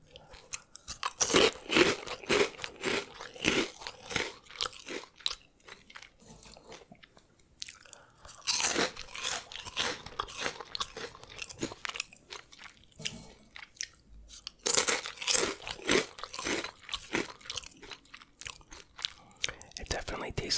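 Imported Cheetos are bitten and chewed close to the microphone, loud crisp crunches coming in repeated bursts, with quiet whispered talk in places.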